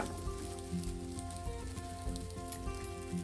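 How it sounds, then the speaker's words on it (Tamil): A flattened roti has just been laid on a lightly oiled hot pan over medium heat. It sizzles faintly and steadily, with a few soft pops and no talk. "பூசிட்டு தட்டி வச்சிருக்கிற இந்த ரொட்டியை நான் இதில் போட போகிறேன்"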